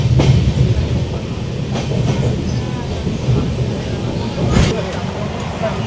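Sikkim Mahananda Express running from Alipurduar to Siliguri through the Dooars: a loud, steady interior rumble of the moving train with faint rail clatter, continuous throughout, under background talk.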